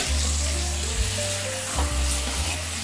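Marinated pork pieces for Ilokano igado frying in a pan with their liquid drained off, a loud, continuous close sizzle under occasional stirring scrapes, no one speaking.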